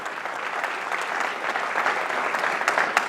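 Sustained, dense applause from an audience at a talk on Peruvian mysteries and Uritorco, many hands clapping evenly and fairly loud throughout with no voices over it.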